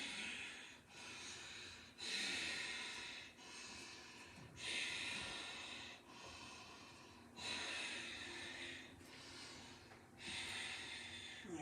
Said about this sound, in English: But I'm still keeping that Ujjayi breath strong.